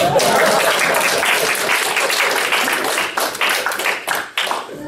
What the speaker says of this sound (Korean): 박수 한번 쳐주셔야죠